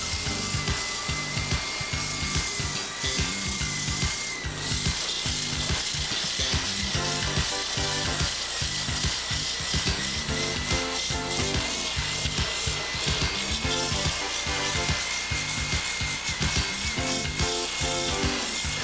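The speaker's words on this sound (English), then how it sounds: "First, grind away the paint from around the repair area." A power grinder stripping paint from around a dent on a car body, a loud continuous whirring with rapid rhythmic rattling and a slight pitch change, steady throughout.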